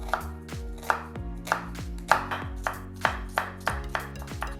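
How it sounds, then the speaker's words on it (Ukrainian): A knife chops an onion rapidly on a cutting board, about ten crisp, close strikes in an even rhythm over a low, steady hum. "Тепер нарізаю цибульку."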